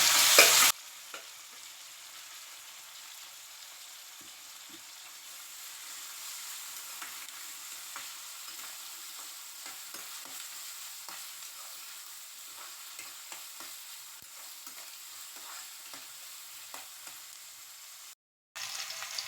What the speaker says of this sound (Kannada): ಈಗ ಈರುಳ್ಳಿ ಬೆಂದಾಯ್ತು ಟೊಮೆಟೊ ಹಾಕೋಬೇಕು